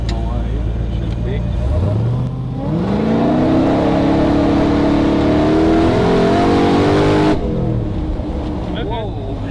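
Vehicle on a test drive with the transmission holding first gear, engine revving up loudly and climbing steadily for several seconds before dropping away, with people talking over it.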